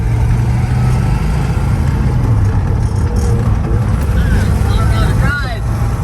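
Chevrolet El Camino engine running with a steady low rumble heard from inside the cab while driving, with voices talking over it.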